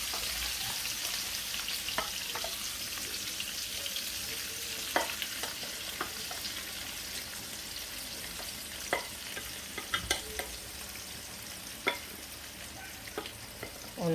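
Leeks hit a hot frying pan alongside green peppers for a salted fish dish, giving a steady moderate sizzle with occasional sharp stirring clicks and scrapes.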